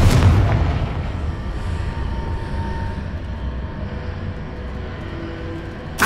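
A Confringo fire-blast spell in Hogwarts Legacy: a loud explosive burst at the start that settles into a rumbling low roar, then a second sharp blast right at the end, with no talking.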